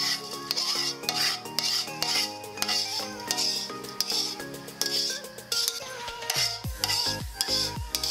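Pork chops are scraped and moved from a pan onto a plate, with repeated rhythmic metal scraping and rubbing, occasional clinks of cookware, near and moderately loud.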